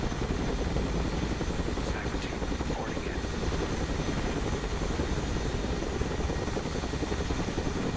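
A Chinook helicopter flying in the Broken Arrow video game, a steady rotor drone and rumble holding constant for the whole stretch with no pauses.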